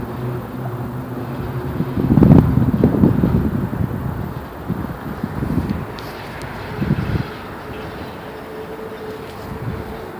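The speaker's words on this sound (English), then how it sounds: "The wind is blowing through either cedars or steel girders." Wind blowing through cedars or steel girders, a low rumbling roar that swells and gusts unevenly over a steady hiss, fairly loud and alone without voices.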